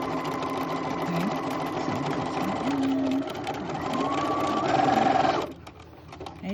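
A sewing machine stitches a zigzag seam finish along a fabric edge, a close, steady mechanical whir that runs a few seconds and then stops abruptly, with no speech over it.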